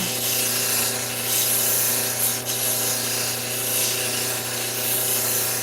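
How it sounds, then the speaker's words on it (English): Steady abrasive rubbing of a thunderegg core cabochon's bevel against a round polishing wheel, a continuous close hum with even grinding texture and no speech. "Work the bevel a little."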